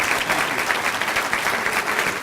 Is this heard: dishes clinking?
no